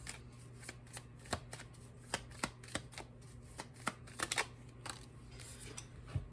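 Tarot cards are shuffled and drawn by hand in a quiet room, making a string of soft, crisp riffles and slaps at an uneven pace, close and alone without talk.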